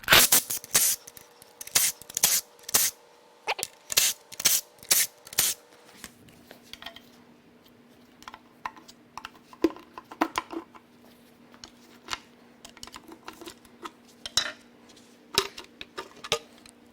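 Metal clanks and scrapes as the upper oil pan is worked loose from a Mercedes 5.8L M137 V12 on a teardown bench, a burst of sharp close taps at first, then sparser knocks over a steady low hum.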